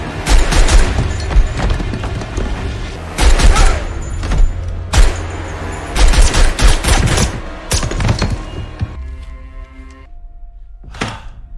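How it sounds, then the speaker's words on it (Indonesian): Loud bursts of gunfire go off in several clusters of rapid shots with booming impacts, then die away to a quieter tail. "Namun sayang John akhirnya juga terkena tembakan."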